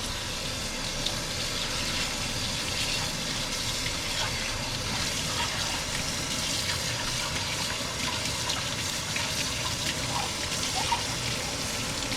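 Tap water runs steadily while a dish is washed in a kitchen sink, a continuous close gushing wash with faint clinks, and no talking.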